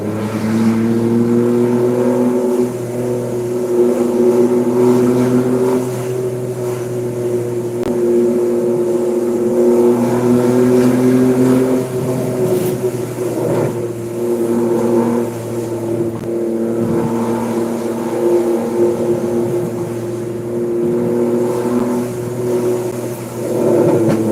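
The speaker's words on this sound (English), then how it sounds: "Yes, the car sounds good." A BMW with a straight-pipe exhaust drones loudly and steadily nearby, holding a deep throaty exhaust tone with slight rises and dips in pitch, no talking.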